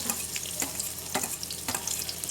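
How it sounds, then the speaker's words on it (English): Onion and garlic fry in a hot wok for mamak-style mee goreng, a loud close crackling sizzle with periodic scraping stirs, brief and without any talking. "Okay, to this we will add onion, some garlic,"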